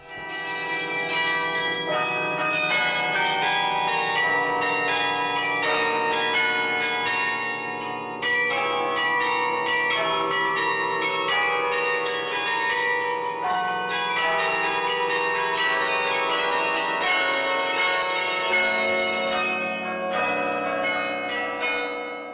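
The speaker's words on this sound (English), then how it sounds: "when you press down one of those wooden batons, it pulls a metal ball inside of the bell to strike the inside edge of the bell" Yale's carillon plays a continuous melody of struck bronze bells, notes ringing and overlapping with long resonant tails, loud and steady throughout with no speech.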